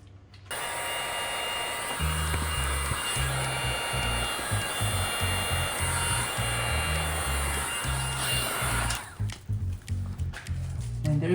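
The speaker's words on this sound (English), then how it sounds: "And I'll probably finish this with the heat gun." A heat gun blows steadily while finishing window tint film on a Cadillac LYRIQ, giving a continuous loud airy hiss with a low rumbling hum that pulses slightly and stutters near the end.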